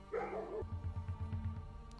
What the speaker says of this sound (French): les aboiements, ça venait bien entendu des molosses qui sont arrivées pour me bouffer